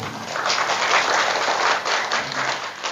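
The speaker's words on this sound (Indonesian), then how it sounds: "Tepuk tangan dulu." A crowd of villagers at a political gathering in Sukamukti, Mesuji, clap together in a brief burst of moderately loud, uneven applause that swells and fades slightly over a few seconds.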